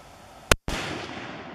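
.270 Winchester rifle firing a 130-grain ACP load outdoors at a 120-metre range, a single sharp loud crack with a brief gap before a long, fading rumble.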